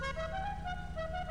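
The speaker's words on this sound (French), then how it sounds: "Alors le klaxon, je veux une musique assez stylée." A customized car horn on an Albany Virgo in GTA V plays a short melodic musical tune of steady tones, clear and alone.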